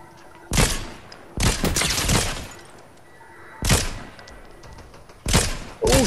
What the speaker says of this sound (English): There's more shooting over there.